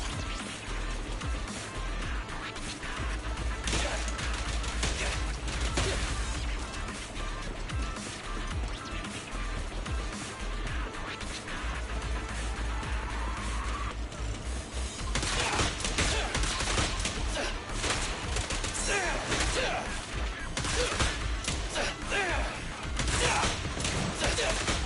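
Gatling gun in Zenless Zone Zero firing long, dense rapid bursts, loud and continuous, mixed with game effects, clanks and impacts, with occasional talk over it.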